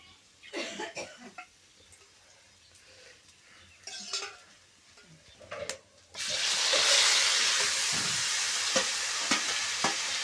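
Spring onion greens mixed with gram flour hit hot oil in a pan, giving a loud, steady sizzle of frying that rises sharply partway through, after quieter scraping and stirring sounds and a few coughs.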